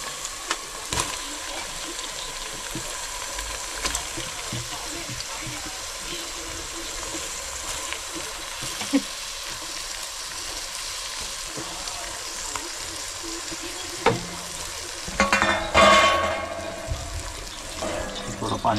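Marinated village chicken sizzles and fries with browned onions in a pan, a steady hissing crackle with stirring and scraping sounds, growing louder near the end as more is added.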